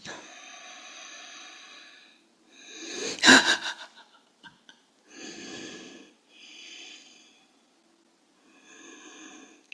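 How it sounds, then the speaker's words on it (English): Deep, audible inhales and exhales during a yoga pose, a few separate breaths with one sharp, loud breath near the middle, close and quiet with no talking. "Take a breath."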